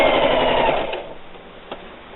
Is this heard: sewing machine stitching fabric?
yes